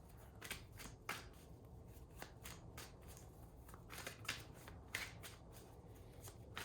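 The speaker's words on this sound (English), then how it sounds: "A few more shuffles." Tarot cards being shuffled in quick riffling bursts, repeated several times, close by with a soft steady background hiss.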